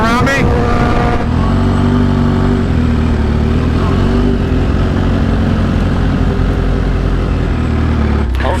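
A 2023 BMW S1000RR sportbike running on E85 roars past close by, its dense high-revving engine noise dominating alongside another bike's engine, with talk mixed in.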